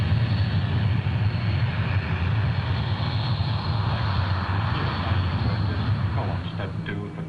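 An aircraft engine waiting for takeoff drones steadily and loudly, forming a dense, continuous roar. A voice talks over the engine noise.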